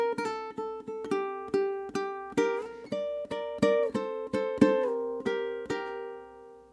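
Ukulele plays the opening bars of a song, part one, bright plucked notes and chords in a steady lilting rhythm, each attack decaying quickly, clear and close with no talking.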